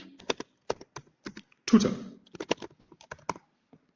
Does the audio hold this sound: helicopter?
no